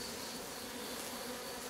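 Honeybees buzz steadily around an open Layens beehive in an apiary, a dense, continuous hum of many insects close by with no voices.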